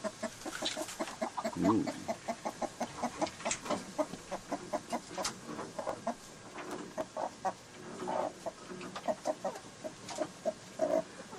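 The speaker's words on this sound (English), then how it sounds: "Here we have a chicken making some eggs on a..." Chickens on Palmyra Atoll cluck in a steady run of short repeated calls, with livestock sounds in the background and a person's brief exclamation partway through.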